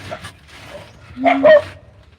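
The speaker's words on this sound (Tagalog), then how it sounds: "There's a dog there." A couple of short dog barks or yips at moderate distance, followed by quiet background.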